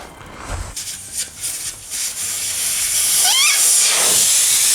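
A cheap, high-mileage V8 AMG car gives off a loud, steam-like hiss that swells steadily, with a thin whine sliding upward in pitch near the end, close and continuous.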